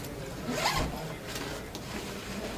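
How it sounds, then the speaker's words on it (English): Zipper being pulled open on a camera accessory bag that holds a recorder, adapters and cables, several quick rasping zips close up with no talking. "Cool thing about this is there's a zipper part"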